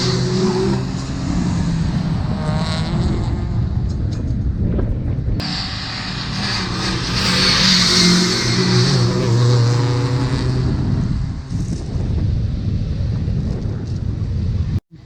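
Rally car engine at a Teesside track, driving laps in among other competing cars; a steady loud roar runs throughout with wind buffeting, rising in intensity midway then holding on, no talk.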